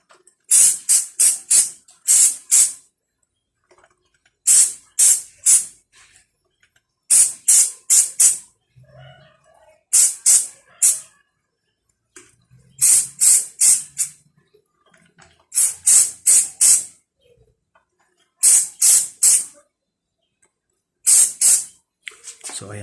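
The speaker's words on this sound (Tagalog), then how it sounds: "Kung kayo po mag-spray sa taas ng kadena," Short bursts of spray lubricant hit the chain of an XR150L motorcycle, repeated hissy puffs in quick clusters of three or four, separated by brief pauses, close and fairly loud.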